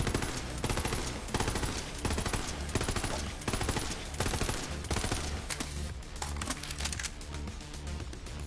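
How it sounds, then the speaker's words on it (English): Rapid bursts of gunfire from a five-round burst weapon in Borderlands 3, loud and dense, repeating in quick clusters for the whole stretch with no talking. "So this thing has the 5-round burst"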